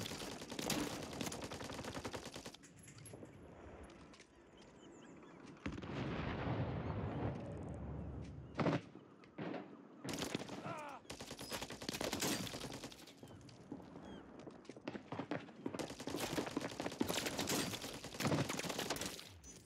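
Rapid bursts of Holger 556 rifle fire in a Rebirth Island battle royale match, loud and repeated in clusters across the whole stretch with brief gaps and distant exchanges between them.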